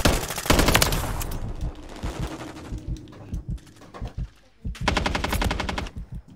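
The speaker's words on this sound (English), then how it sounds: "I missed all my shots on that guy" Rapid bursts of automatic gunfire from the Modern Warfare 3 video game, with a sustained volley at the start, scattered single shots through the middle and another dense burst near the end.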